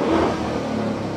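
A Lamborghini Urus engine hums through its exhaust in a brief, steady, close rev with a dense, rumbling tone.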